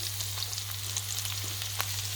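Tin fish curry braising in a pot with masala and chili powder, a steady close sizzle and bubbling with small crackles and pops over a low constant hum, no voices.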